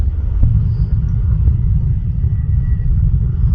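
Heavy road traffic on EDSA in Manila, heard from a moving motorcycle: a loud, steady low rumble of engines and tyres with no break, close and continuous throughout.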